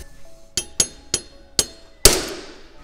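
A hammer tapping small dents around a locating pin hole during a Lambretta engine build, five sharp metallic strikes at uneven intervals, the last one louder with a ringing decay, close and alone.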